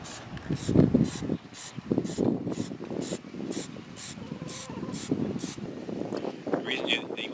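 A spray can of Plastidip coats the outer ring of a Ninebot One E+ electric unicycle in quick, light passes. Short hissing bursts repeat in an even rhythm, close and fairly loud, with rubbing and handling noises between them.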